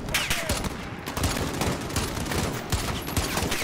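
Dense, continuous automatic gunfire rattles loudly in a Call of Duty Modern Warfare 2019 embassy firefight, overlapping bursts filling the whole stretch without pause.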